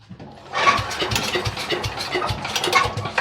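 A wood chipper's small gasoline engine sputtering to life with the choke on and throttle set midway, a close, rough pulsing chug that steadies into an uneven idle.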